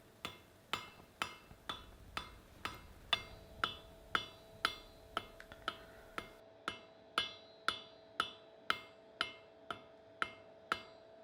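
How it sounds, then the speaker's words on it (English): A cross-peen hammer forges a scarf on the end of each jaw on an anvil for a cleft weld, a steady series of about twenty ringing metallic blows at a regular, unhurried pace, close and alone. "go over to the anvil and ensure that we have a nice scarf on the end of each jaw. This I do with the crosspeen"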